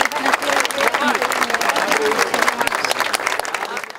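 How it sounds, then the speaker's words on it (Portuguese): Friends, family and acquaintances applaud steadily during a funeral procession for a former mayor as the coffin is carried, a dense, sustained clapping from a nearby crowd. "O caixão foi carregado por um dos filhos do prefeito, Victor Sari, em meio a aplausos de amigos"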